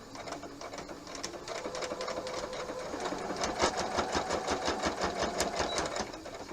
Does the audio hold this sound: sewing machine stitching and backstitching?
yes